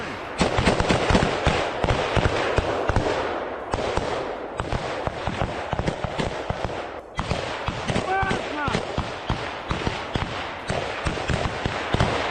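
Artillery blasts and gunfire from a Russian Siberian battalion in frontline combat with Ukrainian troops, a dense, continuous barrage of sharp explosive cracks and booms with no pauses.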